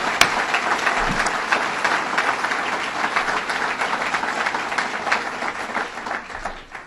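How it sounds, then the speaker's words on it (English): Guests at a state government technology announcement in Buffalo applaud local officials with sustained, fairly loud clapping from a large crowd, a few sharp individual claps standing out near the start. "Let's give them a round of applause because they are doing a great piece of work."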